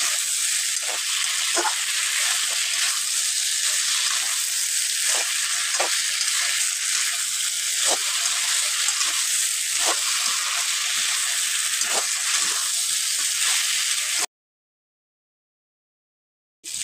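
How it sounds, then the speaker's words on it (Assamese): Broiler chicken meat with potatoes frying in a pan gives a loud, constant sizzle with occasional stirring scrapes, close and continuous, then cuts to silence near the end. "ধুনীয়াকৈ ভজা গৈছে মাংসটো ভজা গৈছে"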